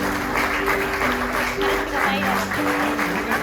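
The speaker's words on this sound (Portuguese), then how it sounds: "Dê uma salva de palmas por esse texto maravilhoso" Congregation applause during a church service, a steady rush of clapping from many people with sustained musical tones from an instrument or keyboard ringing underneath.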